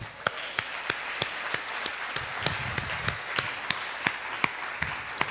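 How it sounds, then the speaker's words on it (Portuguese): A church congregation claps in a steady rhythmic beat, sharp regular claps about three per second over a murmuring crowd, moderately close and lively. "Dê um aplauso a ele,"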